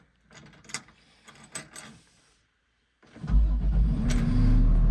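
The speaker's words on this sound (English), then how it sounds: "this is the inside of the Barko 930B. We're gonna crank it up here in a minute." A Barko 930B loader's engine cranks and starts from inside the cab: faint mechanical clicks and whirring first, a short pause, then the engine catches into a loud, steady low rumble that holds to the end.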